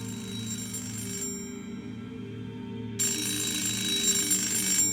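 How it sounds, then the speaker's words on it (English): A red coin-operated public telephone rings on the first floor of a building in a visual novel game, its bright electronic ring sounding in steady repeated bursts that stop briefly and resume louder over a soft background music bed. "A red public telephone on the first floor was ringing."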